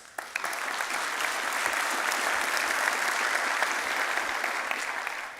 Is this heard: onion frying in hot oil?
no